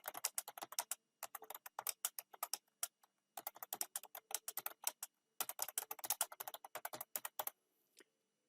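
Quick, crisp keystrokes clatter on a computer keyboard in three bursts of rapid typing separated by short pauses, close and clear against near-silence, ending with a single final key tap.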